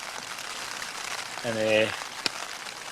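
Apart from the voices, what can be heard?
heavy torrential rain outside tent while wild camping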